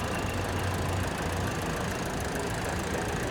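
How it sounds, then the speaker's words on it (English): A vintage tractor engine runs steadily during the tractor parade at the Great Dorset Steam Fair 2022, a continuous loud, broadband rumble with no talk. "Lovely little tractor."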